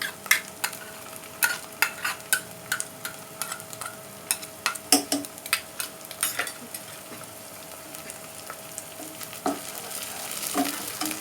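Green chilies go into sizzling handi kabab in a pan, with a steady hiss of frying beneath repeated sharp scrapes and clinks of a spoon stirring, close and fairly loud with no talking.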